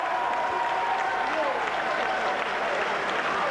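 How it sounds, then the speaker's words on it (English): A rugby league stadium crowd in a Warrington match applauds a departing try scorer, a broad, distant wash of clapping with commentary voices talking over it. "Big round of applause as he richly deserves, Mark."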